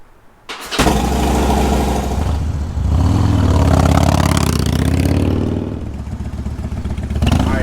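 A Harley-Davidson Dyna motorcycle engine cranks briefly and fires up, then settles into a loud, close, steady rumbling idle with slight swells, alone without talk.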